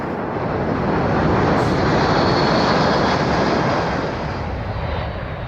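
A Boeing C-17 military transport airplane at the Farnborough air show 2002 gives a loud, steady, broadband engine roar that fills the whole stretch and fades slightly at the end, with no talk over it.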